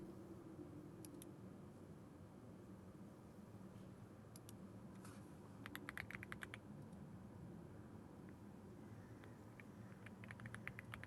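Soft, quick keystrokes on a computer keyboard come in scattered bursts of tapping over a low background hum, with no voices.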